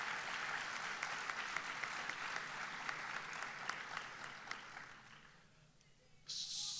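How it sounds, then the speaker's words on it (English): Audience applause for scholarship presenters at a high school awards day, steady clapping from a gathered crowd heard somewhat distant and soft, thinning out over about six seconds before a sudden hiss. "a round of applause for those supporting our students this year."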